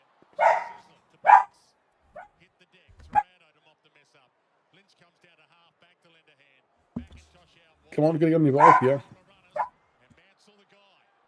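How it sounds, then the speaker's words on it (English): An excited dog barks in a few short bursts amid a family living room during a live AFL football watchalong, with people talking loudly over and between the barks. "The dog's excited."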